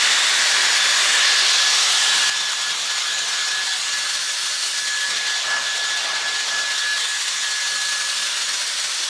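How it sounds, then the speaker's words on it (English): A pink Dyson Airstrait hair dryer blows hot air in a steady, loud, close rushing hiss with a faint whine, easing slightly in level after the first couple of seconds and then holding constant. "So right when I turned this on, it started giving me hot air"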